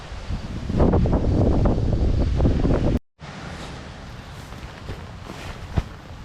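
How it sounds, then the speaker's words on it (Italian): Wind blows steadily across an outdoor campsite around a pitched tent, a loud broadband rush with gusts in the first seconds, a brief dropout, then a lighter continuous blow with occasional buffeting against the microphone. "c'è un po' di vento però"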